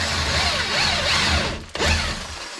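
A power screwdriver drives screws during a full window replacement, a loud whirring motor with wavering pitch, a brief stop, then a restart close by.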